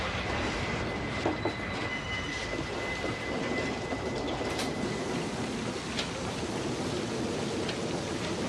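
A passenger train rolls along steadily in a Western setting, a continuous dense rumble of wheels and carriage noise with faint squeals and clatter, loud and close throughout with no talk.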